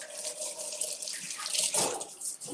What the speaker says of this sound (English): let me wash my hands and get my uniform on